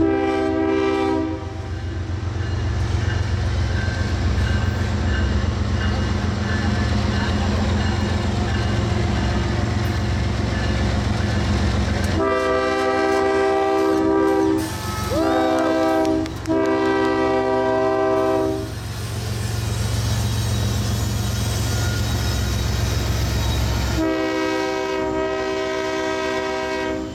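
Diesel locomotive, apparently an EMD unit, passes at Rochelle, Illinois, with a low rumbling engine throughout and long, loud multi-tone horn blasts sounding twice in the middle and again near the end.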